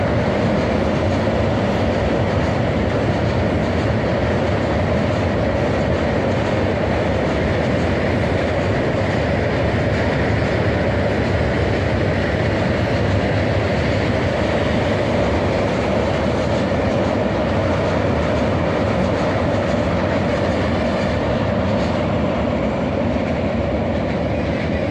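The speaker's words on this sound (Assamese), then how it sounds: "চাব পাৰে এইফালে ব্ৰহ্মপুত্ৰ ব্ৰিজ এইফালে ট্ৰেইন গৈ আছে" A train rolls steadily across the Brahmaputra bridge, a continuous loud rumble of wheels and rail clatter that holds for the whole stretch without pause.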